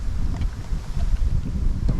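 Steady outdoor wind buffeting a microphone, a continuous low rumbling roar with gusty swells throughout, no speech.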